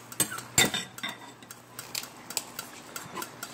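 Rice with achiote oil, garlic, oregano and cumin is stirred in a frying pan for Puerto Rican pasteles, giving light, irregular utensil clinks and scrapes against the pan, close and fairly quiet.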